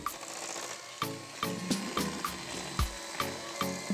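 Eggs are beaten in a bowl of semolina coconut cake batter, giving a steady series of close, rhythmic whisk clacks and wet slapping strokes.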